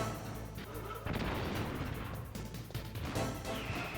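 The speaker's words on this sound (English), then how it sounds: "I threw a chaff grenade, right?" A chaff grenade explodes in the Metal Gear Solid video game: a sharp burst followed by crashing, crackling debris and further booming hits, loud and fairly dense across the moment.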